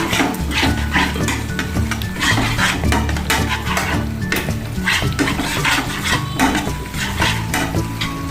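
Yogurt is being stirred into a fish curry in a pan, with steady scraping and clinking of a utensil against the pan over a low sizzle, continuous and close throughout.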